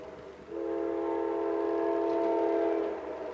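A train horn sounds one long, steady, loud blast near a window, rising in quickly and holding for over two seconds before it fades, with rail noise underneath.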